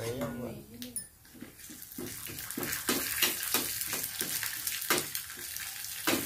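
Raisins frying in a pan on a new brass-burner gas stove, with a soft sizzle and scattered light clinks and stirring taps throughout, fairly close and moderately loud.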